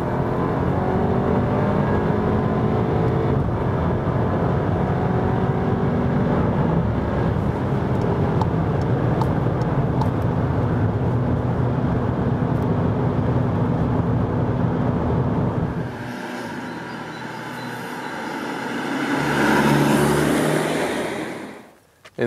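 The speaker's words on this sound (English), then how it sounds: "we end our review, our driving part review, with another acceleration for the Sportline" A Skoda Superb SportLine 280 hp AWD estate accelerating hard, a loud continuous engine and road roar building for about fifteen seconds, then dropping away before a brief final swell.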